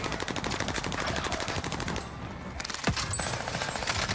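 Video game gunfire as shots are fired through a tent, rapid bursts of loud automatic fire packed close together, a short break, then another sharp crack and more shooting.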